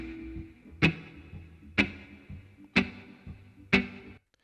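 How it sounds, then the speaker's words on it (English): Reggae skank rhythm guitar, four short choppy offbeat strums evenly spaced about a second apart, crisp and isolated with no talk. "I believe he's doing the sort of basic skank that you're referring to"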